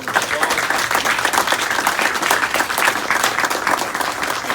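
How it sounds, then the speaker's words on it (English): Steady applause from an audience, dense and continuous, fills the room for a man honored by the Kennewick Police Department for stopping an attempted robbery. "Let's give him one more big round of applause."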